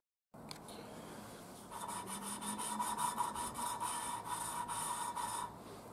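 A Triumph Spitfire cylinder-head valve is lapped by hand with coarse grinding paste, a faint, close gritty rasping with rhythmic back-and-forth strokes that grow slightly louder and more pronounced midway.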